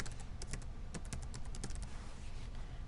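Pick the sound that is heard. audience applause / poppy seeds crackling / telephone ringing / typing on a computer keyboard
typing on a computer keyboard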